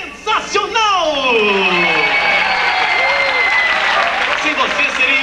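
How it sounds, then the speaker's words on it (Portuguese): Studio audience applause at a 1996 Valentine's Day variety show, a dense, loud wash of clapping that holds steady throughout, with a voice talking over it at the start. "eu queria palmas pra vocês"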